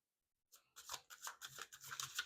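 A deck of tarot cards being shuffled close by, with repeated crisp riffling bursts after a short silence, fairly quiet and with no talking.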